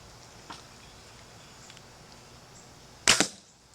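Bow shot releasing a bowfishing arrow with a spincast reel set to free spool: a faint click early, then a sharp loud snap of the release with a quick rattling whir of line paying out near the end.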